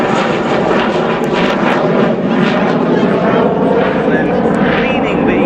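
A Dassault Alpha Jet of the French Air Force turns away after takeoff at an airshow, its jet engine roaring as a continuous loud rush with commentary running over it.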